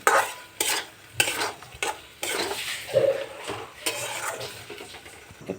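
Paneer and cashews being stirred in a frying pan, with repeated scraping strokes of a spoon against the pan over a light sizzle, close and fairly loud.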